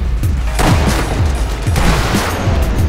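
Rapid machine gun fire in the Sniper Elite V2 video game, a loud dense rattle of shots with booming low thumps, continuous and close throughout.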